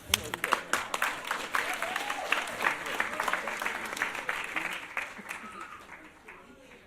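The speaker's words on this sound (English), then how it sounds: "Let's give them another round of applause." Audience applause at a live event, steady clapping from a crowd that stays dense for most of the stretch and slowly thins toward the end, with no speech over it.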